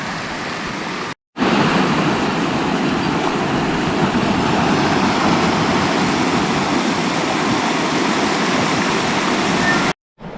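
A stream with a strong flow heading toward a lake in the backcountry, a dense, steady rushing of water that fills the scene from start to finish.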